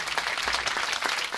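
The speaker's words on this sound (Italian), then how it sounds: "fatevi inquadrare mentre fate questo applauso meraviglioso di apertura" A theatre audience at the opening of the Miss Vesuvio 2010 beauty pageant final gives dense, sustained applause, with many hands clapping evenly and no voices above it.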